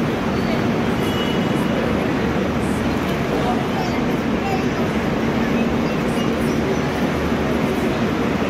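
Passenger train, the Hisar Duronto Express, standing at a Mumbai station platform: a steady, loud broadband rumble and hum of idling coaches and station bustle throughout, with voices faintly mixed in.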